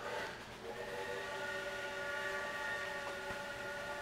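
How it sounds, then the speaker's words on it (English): In the video game Shadow Man Remastered, a sustained train horn or whistle drones in layered steady tones over a rumbling rail background, continuous and moderately loud. "That makes, like, real-life train sounds"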